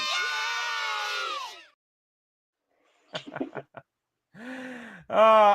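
Crowd cheering with high whoops surges for a moment and then cuts out. After a silence come a few scattered short shouts and yells, quite quiet overall.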